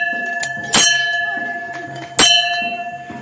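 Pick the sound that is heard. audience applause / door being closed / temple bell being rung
temple bell being rung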